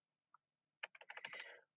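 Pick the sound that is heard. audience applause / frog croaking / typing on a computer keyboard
typing on a computer keyboard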